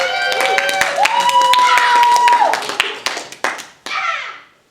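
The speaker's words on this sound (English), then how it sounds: "Give them a round of applause." Audience clapping at a talent show, steady dense applause with a bright tonal voice or music line over it, thinning into scattered claps and fading out near the end.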